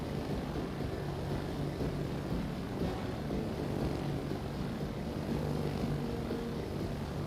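A fighter aircraft squadron flies in World of Warships: Legends, giving a steady, dense propeller-engine drone that stays loud and unbroken throughout, mixed with game ambience and no talking.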